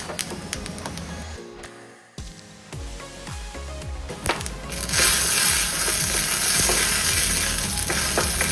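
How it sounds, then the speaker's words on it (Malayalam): Dried red chillies, mustard seeds and urad dal dropped into hot oil in a pan, starting with scattered crackles and clatter, then breaking into a loud, steady close sizzle. "ഒരു പാനിൽ അല്പം എണ്ണ ഒഴിച്ച് ചൂടായ ഉടൻ നമ്മൾ എടുത്തു വച്ചിരിക്കുന്ന വറ്റൽമുളകും കടുകും ഉഴുന്ന് പരിപ്പും ഇട്ട് കൊടുക്കും"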